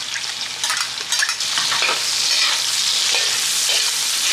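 Onions sizzle and fry in a hot pan for chicken curry while a utensil stirs them, producing a steady close crackle with scraping strokes and no talking.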